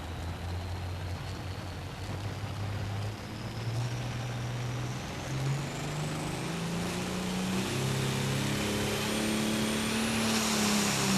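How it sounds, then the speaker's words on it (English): A loud, heavy John Deere 4320 tractor engine roars continuously at a tractor pull, its pitch climbing steadily as it revs harder, with a high whine rising near the end. "we got the green lights for the green tractor."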